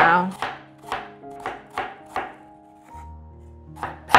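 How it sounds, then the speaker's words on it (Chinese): A knife chops an apple on a cutting board in a steady series of crisp, evenly spaced strikes, about seven close knocks over a few seconds with brief pauses between them. "换个方向，把苹果切碎"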